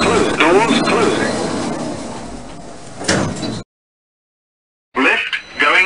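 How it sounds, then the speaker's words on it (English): Elevator doors closing in the Orona Elevator Scratch game, a sliding rumble with a thud near the end, then a gap of silence before more door noise, with a spoken announcement over it. "Doors closing."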